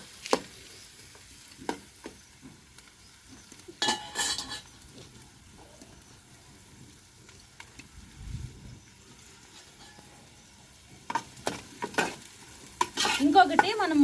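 Sliced onions fry on a high flame in a pan for a village-style okra curry, with a soft sizzle under scattered spoon scrapes and pot clinks, busier stirring near the end.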